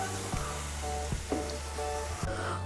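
Cauliflower koftas fry in hot oil with a steady, close sizzle and bubbling hiss, broken by a few soft clicks of utensils and a steady low hum beneath.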